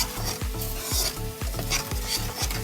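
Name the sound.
stirring boba with brown sugar in pan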